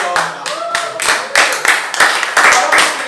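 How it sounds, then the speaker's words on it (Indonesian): Audience clapping during an Indonesian Christian sermon, with a run of loud, fairly rhythmic claps close by, somewhat uneven and sounding like a smaller group. "Tepuk tangan."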